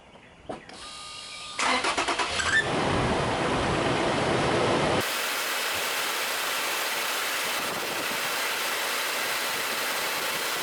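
A Toyota 4Runner engine cranks, catches and starts, then settles into a steady, even idle that hums on alone for several seconds.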